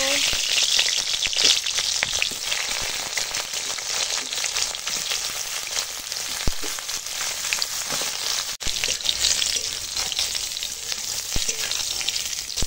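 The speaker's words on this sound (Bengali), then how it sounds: "কড়াই দিয়ে দিয়েছি তেল। তো এখন পটলটা ভেজে নেব।" Pointed gourd (potol) frying in oil in a wok over a stove, a steady dense sizzle with soft crackles that carries on throughout, close and fairly loud.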